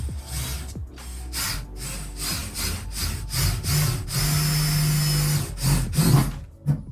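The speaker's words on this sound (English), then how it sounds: "you want to make sure that you drill on the inside corner of your 14 by 14 square" Drill boring a hole through the metal roof of a Ford Transit 250 van, with a loud, close, sustained whirring grind broken by short pauses and restarts, ending in a brief rattle.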